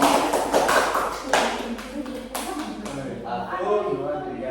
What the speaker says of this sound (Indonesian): Beri aplaus pada Pak.